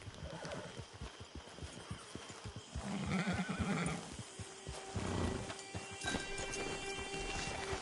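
Horse in the Red Dead video game neighing with a loud, drawn-out whinny over a game soundscape, joined by soft hoof clops.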